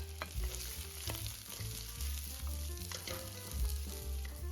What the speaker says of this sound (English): Now add some more oil into the same wok. Then add the garlic. Then add all the vegetables in.